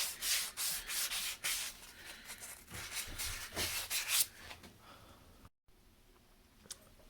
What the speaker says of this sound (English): Alright, so this is sanded.